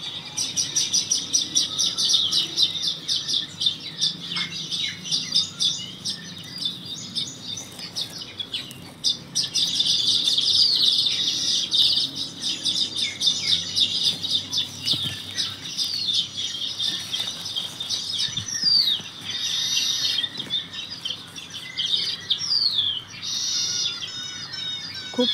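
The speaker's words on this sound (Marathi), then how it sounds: "खूप पक्षी आहेत झाडावरती. आवाज येतो चिवचिवाट चालू." Many birds chirp and twitter together in a custard apple tree in the morning, a dense, continuous chorus of close, overlapping calls that stays loud throughout with no voices.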